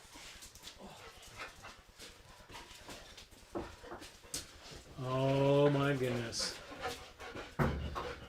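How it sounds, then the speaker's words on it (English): A small dog barks and pants noisily indoors near a pen of baby pigs, with a burst of harmonic yelping midway and someone talking over much of it. "Why are you being so noisy, little girl? Usually you don't bark."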